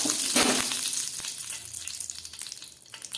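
A spoonful of ghee goes into hot oil left from frying eggs, setting off a sharp burst of sizzling that settles into a softer, steady crackle.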